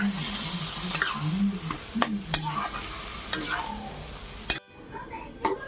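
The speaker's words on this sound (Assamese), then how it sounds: "সেইখিনি মই ভাজি আছোঁ অকণমান ধুনীয়াকৈ লৰাই ল'ম" Food sizzles in a hot pan while a spatula scrapes and stirs in irregular strokes, close and clear.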